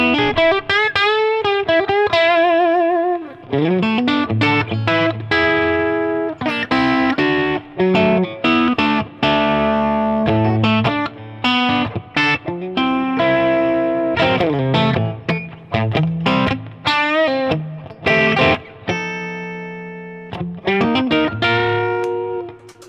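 An electric guitar fitted with a Guyker WT001 bridge, played through the second channel of a Diezel Schmitt amp. It gives a driven, effected tone in fast, busy riffs and sustained bends, loud and close, with no talking.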